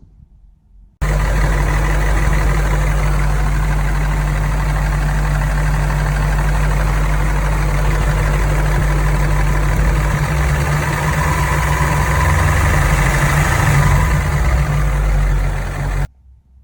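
A Toyota 1UZ VVTi V8 engine with an abnormal noise idles steadily and loudly up close. It gives a constant heavy rumble with a rough, tractor-like clatter, and no one speaks over it.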